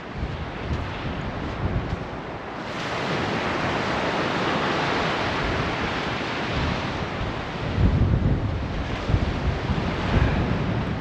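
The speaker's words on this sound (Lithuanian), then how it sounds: "Labai stiprus vėjas." Strong winter wind on a beach in Spain roars and buffets the microphone continuously while surf crashes nearby, loud and unbroken, with no voices.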